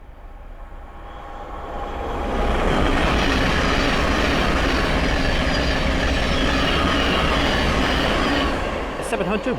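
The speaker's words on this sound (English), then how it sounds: "the next train to pass by is a Thameslink 700 that is running non-stop." A Thameslink Class 700 electric multiple unit passes non-stop along the East Coast Main Line at Sandy, rising from a distant hiss into a loud, sustained rush of wheels and rail noise before easing off at the end.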